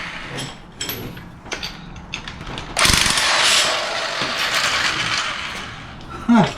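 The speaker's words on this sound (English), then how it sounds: "as you can see, it take me a long time just to compress all the way this" A spring compressor is worked on an Eibach 1.5-inch lift spring for a Toyota RAV4, with scattered mechanical clicks followed by a sustained whirring of a power tool at close range.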